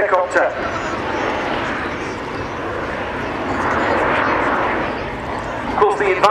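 An MV-22 Osprey tiltrotor flies past at the RIAT airshow, a broad roaring rush that swells and eases over several seconds while someone talks over it throughout.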